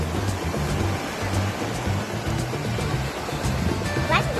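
Waves of the Baltic Sea wash steadily onto the shore at a Polish seaside resort, a loud continuous roar of surf with low rumbling underneath and no pauses.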